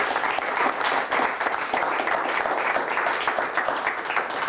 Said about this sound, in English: a nice round of applause for both of our teams